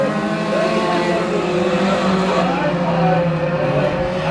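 Race cars roaring around Bakersfield Speedway in a heat race, a loud, steady engine drone with layered motors close by and continuous throughout, no pauses or breaks.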